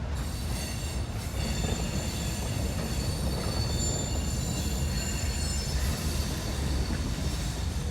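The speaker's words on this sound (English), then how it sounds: "once this one is in, the train is gonna pull out" A CSX freight train of hopper cars rolls past with a steady heavy rumble, a sustained high wheel squeal and faint rail clatter, loud and close without a break.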